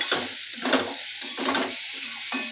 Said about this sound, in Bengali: দেখো, আলু পেঁয়াজটা ভাজা হচ্ছে।